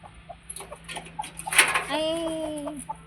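A rooster gives a drawn-out, wavering call near the end, rising over background household clatter and faint chatter.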